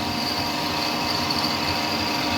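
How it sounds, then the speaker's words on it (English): A steady, continuous high-pitched whine of a pilot drill boring through metal on a custom Harley-Davidson Sportster build, running at constant speed, loud and close, with no talking. "now we're going to run through with a pilot drill"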